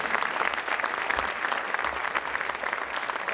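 A crowd at a Somerville, Massachusetts public event applauds, a loud, dense, continuous clatter of many hands clapping close by for the whole stretch.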